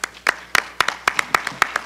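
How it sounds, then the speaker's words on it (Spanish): A small audience applauds at a talk on media and revolution, with sharp, distinct claps landing in a loose rhythm close to the microphone, loud and separate enough to pick out individual hands. "Un aplauso"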